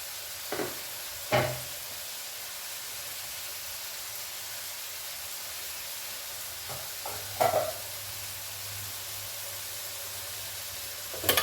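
Ridge gourd curry with ground green chilli paste stirred in a pan, a steady low sizzle broken by a few sharp spatula scrapes and knocks against the metal, without any voices.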